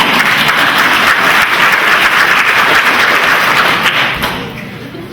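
Loud, dense audience applause fills a college all-staff day gathering, a full roar of many hands that holds steady for about four seconds before tapering away.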